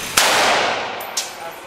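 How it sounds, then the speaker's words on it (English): Gunfire at an indoor machine gun range: two sharp, loud single reports about a second apart, each followed by a short reverberant decay. "Two more shots."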